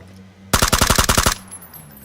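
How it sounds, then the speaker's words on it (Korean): A rapid burst of automatic gunfire in a video game, about ten sharp shots in under a second, loud and close, then quiet background. "다른 데서 총소리 들려."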